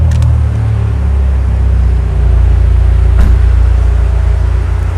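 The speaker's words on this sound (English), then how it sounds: "The car just got cold started, that's why the car is really loud" BMW M8 Competition Gran Coupe idling loud after a cold start, a deep steady engine drone with low rumbling harmonics, close and constant, with a brief click partway through.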